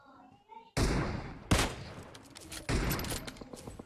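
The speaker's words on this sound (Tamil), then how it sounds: "புல்லட் வருது." Bursts of gunfire in the PUBG video game, with three loud volleys of rapid shots, each followed by a trailing decay.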